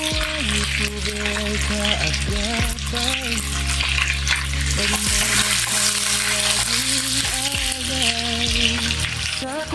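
Tomato and onion frying in a pan, with a steady, loud sizzle that runs throughout, together with stirring and faint kitchen noise in the background.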